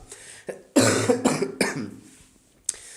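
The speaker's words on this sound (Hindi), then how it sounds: "काफ़ी खांसी हो गई है।" A person coughs several times in a row, harsh and close, followed by a brief pause and one more short cough.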